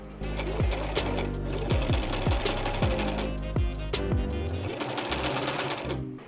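A sewing machine stitches a tiered skirt seam to the end, a close, steady mechanical whir with rhythmic needle thumps that runs continuously for several seconds.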